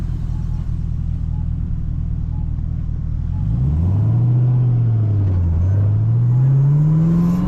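A Camaro ZL1 with a manual gearbox drives at sunset, its V8 holding a low steady rumble from inside the cabin before the revs rise and fall through a gear and climb again in a smooth, loud drone.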